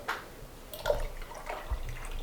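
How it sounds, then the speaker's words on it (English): Lemon juice trickles into a batch of pink lemonade meant for water bath canning, a faint, soft liquid dribble with a few small drips over a quiet room background. "So as we add our lemon juice, which is very acidic, which is great for water bath canning"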